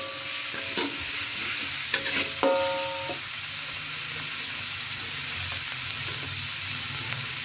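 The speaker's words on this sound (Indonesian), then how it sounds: "Lengkuas itu sengaja digoreng duluan biar dia nggak langu ya." Galangal frying with garlic and turmeric in a pan for jackfruit gulai, a steady broadband sizzle with scraping stirs of a utensil across the pan and a few clacks near the start, close and continuous.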